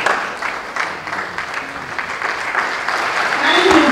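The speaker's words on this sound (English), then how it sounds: "let's show love by clapping for them" A crowd at a university orientation claps steadily throughout, a dense continuous patter of many hands that swells slightly toward the end.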